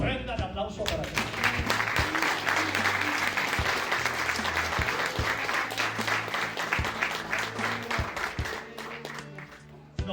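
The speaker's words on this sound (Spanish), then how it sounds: "Ofrenda de aplauso para ti." Sustained applause from a church congregation at an evangelistic service, dense and steady throughout with a low music bed underneath, tapering slightly near the end.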